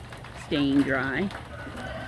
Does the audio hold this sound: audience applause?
no